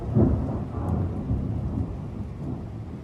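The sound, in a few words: thunder during a thunderstorm in Metz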